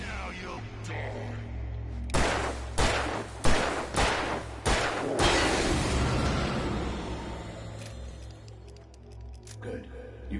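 Gunfire in the video game Alan Wake: a series of sharp, loud gunshots fired in an uneven rhythm, followed by a fading rumble, with game voices speaking around them.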